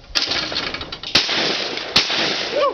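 Shotgun fired at targets out over water, three sharp cracks spaced about a second apart, each leaving a rolling outdoor echo, with no talking.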